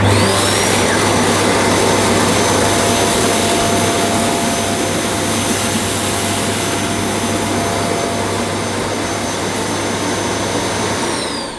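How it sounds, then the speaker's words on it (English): A Dyson Cinetic Big Ball Animal vacuum cleaner runs continuously while cleaning a carpeted floor, a loud close motor whine with a high steady tone and a low hum that tapers off at the very end. "And now cleaning up to the edge on my right hand side of the cleaner. And now the left hand side."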